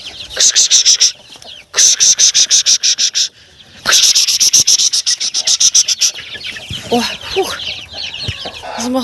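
Domestic hens and a rooster cluck and call loudly close by in a backyard poultry setting, with rapid repeated clucking bursts and a high insect-like trill, briefly pausing before the calls resume.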